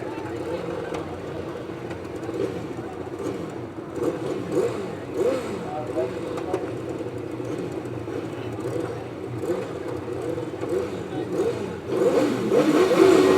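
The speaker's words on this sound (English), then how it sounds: "Well, they go Mark Cossar gets the path on the inside." Sidecar speedway outfits at a race start, a mid-pitched engine roar that swells and grows louder toward the end, heard from a distance with a commentator talking over it.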